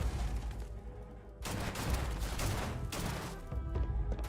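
Gunfire in the space shooter Starfield, a dense fusillade of shots with loud bursts that break off and resume in waves, with no talk over it.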